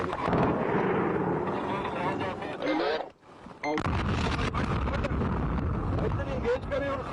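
A heavy artillery blast booms, cuts to a brief hush, then rumbling fire and low roaring continue with some voices underneath.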